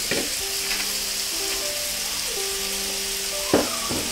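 Beef marinated in black pepper sauce stir-frying in a hot pan, a steady close sizzle with occasional scraping stir strokes and a sharper clatter near the end.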